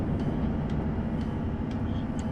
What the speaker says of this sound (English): I think there might be another train passing us on the other track there.